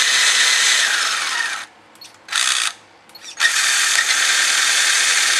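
A Tamiya Highlift Toyota Tundra RC truck revs with a high electric motor whine, cutting out briefly between bursts as it shifts through first, second and third gears; the whine runs loud, near and steady.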